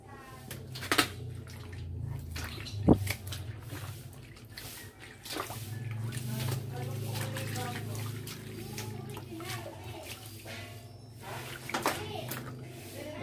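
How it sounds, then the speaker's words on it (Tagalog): Motorcycle helmet pads soaking in a basin of water, with soft sloshing, squishing and dripping sounds close by, a few sharper splashes, and a voice talking intermittently. "babad muna natin siya"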